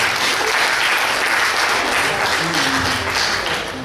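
Listeners at a university economics school lecture give a speaker a loud round of applause, dense close clapping from a roomful of people holding steady before easing off at the end, with faint voices underneath.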